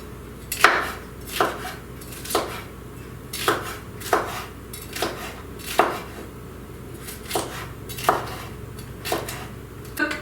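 Knife slicing through a bell pepper on a cutting board, about a dozen crisp, evenly spaced cuts landing in a steady rhythm, close and clear against a quiet kitchen.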